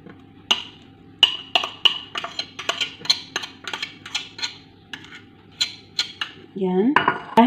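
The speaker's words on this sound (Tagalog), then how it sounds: "Dahan-dahan po natin siyang paghaluin." Orange cake batter stirred in a bowl, a steady series of bright clinks and taps of utensil against the bowl at an irregular brisk rhythm, close and clear, ending in a denser scrape and rattle.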